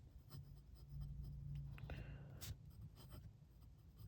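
Pen nib scratching across diary notebook paper while testing Pelikan 4001 dark green ink, faint close strokes in short bursts over a low background hum.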